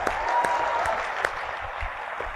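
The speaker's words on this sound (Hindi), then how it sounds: "जोरदार तालियां दोनों के लिए होनी चाहिए," Loud audience applause fills a Hindi motivational seminar hall, a dense steady wash of clapping with a few sharper claps standing out, continuing throughout without talk.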